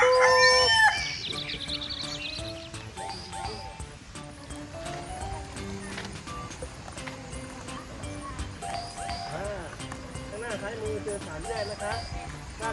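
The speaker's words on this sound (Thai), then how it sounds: "ตรงนี้เป็นกรงของไก่นะคะ ไก่ฟ้าไก่แจ้" Chickens, pheasants and bantams in a coop at a zoo area of a botanical garden cluck and crow in scattered bursts throughout, while someone talks over them and outdoor ambience fills the background.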